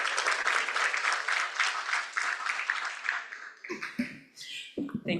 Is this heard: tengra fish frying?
no